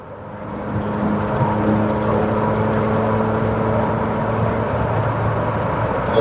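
A rebuilt-engine Mercedes-Benz C200 W202 sedan cruises on a test drive, its steady engine drone and road rumble filling the cabin continuously at close range, with no talking.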